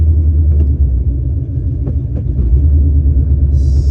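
Rebuilt K5 Blazer engine rumbling loudly as the truck drives and is manually shifted through its gears, a steady deep drone from inside the cab with slight shifts in pitch.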